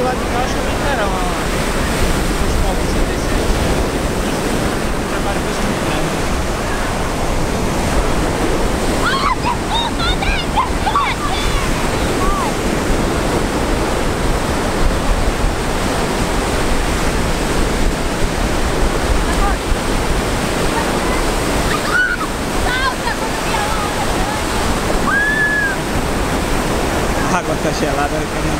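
Ocean surf at Pompano Beach, Florida, rolls in as a loud, continuous roar of breaking waves, with steady wind buffeting the microphone throughout.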